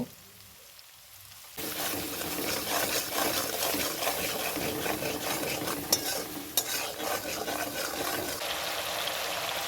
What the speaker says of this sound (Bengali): মশলাগুলো আমার সুন্দরভাবে কষানো হয়ে গেছে